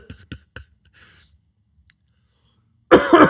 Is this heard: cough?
yes